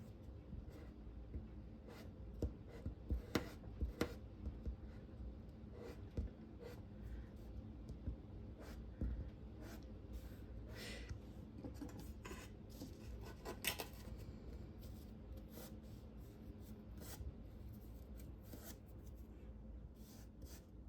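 A stiff eraser rubs and scrubs across a charcoal drawing while floor texture is worked in, making close, quiet, irregular scratchy strokes with brief pauses between them.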